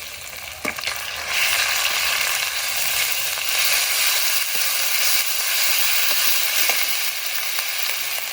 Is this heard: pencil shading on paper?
no